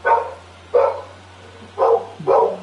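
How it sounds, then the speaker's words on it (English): A dog barks four times nearby, loud single woofs with short gaps between them, over a low steady hum. "There's my dog again."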